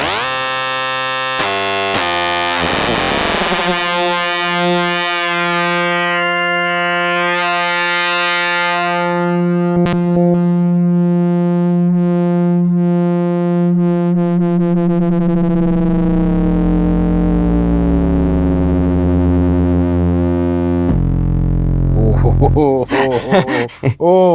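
Sustained Teenage Engineering OP-XY synthesizer tones with rich, buzzy harmonics that slowly drift and wander in timbre, sweeping through evolving wavetable textures before a burst of glitchy fragments.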